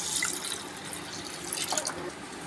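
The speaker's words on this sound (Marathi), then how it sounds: "ह्याच्यामध्ये मी एक तांब्या पाणी टाकलेले" Water splashes and trickles into a pot of mutton curry, a steady pouring wash of about one jugful with a few drips near the end.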